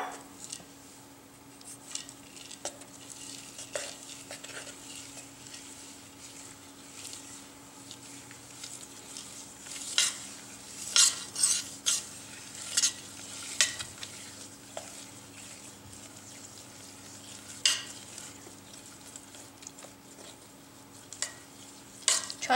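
Nuts being mixed into melted chocolate with a spoon, giving soft scraping and light clicking strokes against the bowl, fairly quiet with a steady low hum underneath and no talking.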